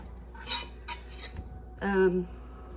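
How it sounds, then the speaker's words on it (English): Food for red beans and rice is dropped into a pot with a few quick metallic clinks and scrapes of a utensil, then a louder ringing knock of metal on metal, close by. "now we'll just stick this in the pot and let it be"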